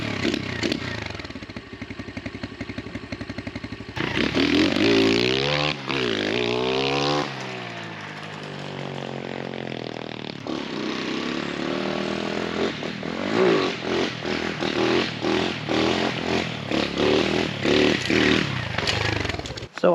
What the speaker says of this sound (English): We're gonna start it up, test drive it, warm up the bike